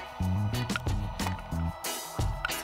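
Uncooked rice is washed in water in a pot or bowl in a home kitchen, with wet squishing and sloshing swirls in short repeated strokes, close and fairly loud, plus a brief rush of tap water near the end.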